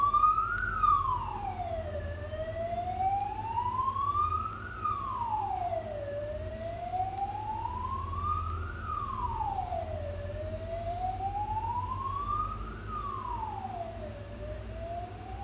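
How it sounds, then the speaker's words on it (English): A loud emergency siren wails up and down repeatedly in a regular cycle, close by, with a deep engine rumble beneath it. "I'm distracted by the sound of the siren"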